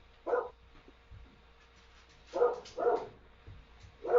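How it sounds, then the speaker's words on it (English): A dog barking in the background of a home recording, a single bark followed after a pause by three more in quick succession, moderately close, with no talking over it. "Let me let the dog stop barking."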